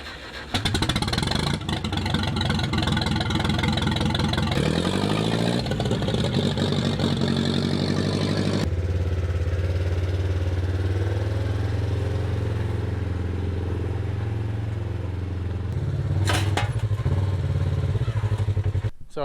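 A motorcycle engine fires up after the fuel is switched on, then settles into a steady, loud idle with a brief blip of throttle near the end, close to the listener.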